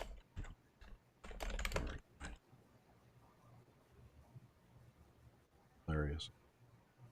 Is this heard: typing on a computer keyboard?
yes